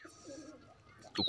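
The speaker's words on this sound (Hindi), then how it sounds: "तो कबूतर ज़रा मौज में आ गए हैं" Pigeons sitting on eggs coo softly in a short, faint murmur, ending with a slightly louder rustle or call.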